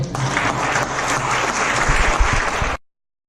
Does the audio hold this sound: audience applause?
yes